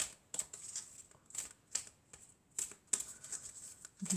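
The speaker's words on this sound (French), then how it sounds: "Alors je vais prendre quelques cartes" Tarot cards shuffled and drawn during a Gemini horoscope reading, with a quick series of crisp riffling slaps and flicks close up, each burst separated by short pauses and no talking.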